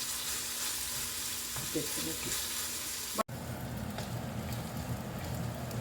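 Ingredients for a cherry chilli and amla roti chutney fry in a pan with garlic and chillies, giving a steady close sizzle for the whole clip that is briefly cut by a sharp click midway.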